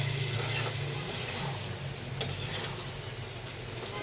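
Spiced food sautéing in a pan while ground chili is added, making a soft continuous sizzle with light stirring scrapes and one brief sharp clink midway.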